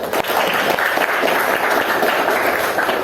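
A classroom of students claps for classmates, a dense, loud, continuous burst of applause filling the room for a few seconds.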